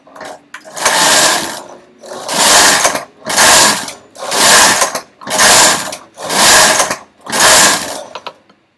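A knitting machine carriage knits a few rows of yarn, sliding back and forth in seven long, loud whooshing and clattering passes separated by short pauses.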